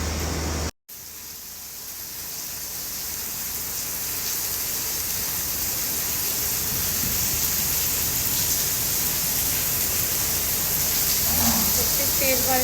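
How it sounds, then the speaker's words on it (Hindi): Heavy rain makes a steady, dense hiss that slowly builds in loudness and continues without pause, heard alone without talk. "तेज बारिश पड़ रही है।"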